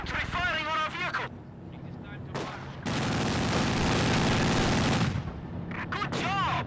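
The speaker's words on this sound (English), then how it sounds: "Infantry firing on our vehicle!" Infantry rifle and machine-gun fire from the World War II strategy game Company of Heroes 2 rattles in a dense, sustained burst amid battle noise, with voices calling out before and after.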